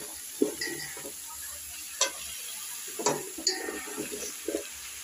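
Spinach stems added to frying vegetables and lentil bori in a pan, giving a soft sizzle under scattered clinks and scrapes of stirring, fairly quiet and close.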